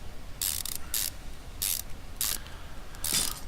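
Ratchet tightening wheel bolts in a car repair game, five short bright ratcheting bursts spaced across a few seconds over a low steady hum, close and clean with no talk.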